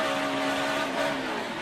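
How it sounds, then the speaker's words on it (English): A NASCAR race car's tires break loose as it slides, a sustained engine roar with tire noise, steady and fairly loud throughout. "Kind of hear those tires break loose on the Carl's car."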